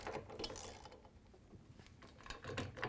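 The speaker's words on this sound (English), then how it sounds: "And then we can use our 17mm socket to tighten it down." A 17mm socket on a ratchet wrench tightens the rotor bolt of an LG/Kenmore washer, giving a steady run of quiet metallic ratcheting clicks and scraping with faint thumps.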